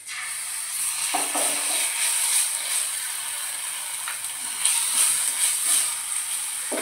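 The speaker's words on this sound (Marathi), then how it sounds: "आलं लसणाची पेस्ट टाकून घ्यायची" Ginger-garlic paste sizzles in a hot pan for tomato chutney, a continuous bright hiss with occasional sharper crackles and a few scraping stirs, with no talking.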